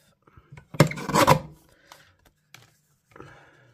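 Paper trimmer blade slicing a strip off card stock in a papercraft session: a short rasping cut of about half a second, fairly close, followed by a few faint taps and one small scrape, with no talking.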